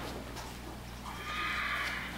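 A horse whinnies at dinner time in a stable, a drawn-out neigh rising over steady low background hum and some stirring, fairly close and moderately loud.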